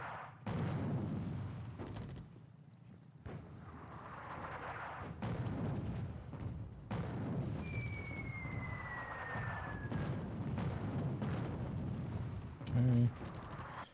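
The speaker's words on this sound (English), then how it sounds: "we're going to hit them hard with 3 artillery units" Artillery bombardment in the North Africa war game Attack At Dawn: North Africa thuds out as a series of muffled distant booms and rumbles, fairly quiet, with someone talking over it and a brief whistling tone midway.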